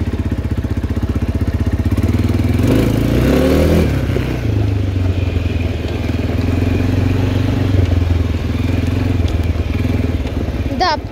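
ATV engine warming up after a ride, running loud and steady close by with a burst of revving early on, then settling back to a rough, rumbling idle.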